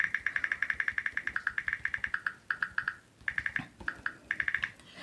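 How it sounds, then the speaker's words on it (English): Quick runs of sharp clicks come from the on-screen keyboard of a Samsung Galaxy S25 as it is typed on, close and fairly quiet, in bursts separated by brief pauses. "when you type anything on your keyboard, then you can hear the sound."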